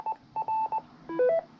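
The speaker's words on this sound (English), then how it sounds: "That doo-doo-doo, it tells you that I got into the repeater." A short sequence of electronic beep tones from a ham radio repeater's auto patch, confirming signal access: several clipped single beeps, then a quick rising-falling run of overlapping tones, clear and close.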